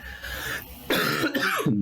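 A few harsh coughs, close and loud, following one another in quick succession.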